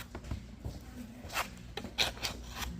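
Bondo body filler being stirred together with its hardener, giving soft rubbing and scraping strokes in an irregular rhythm, close and fairly quiet, with no talking.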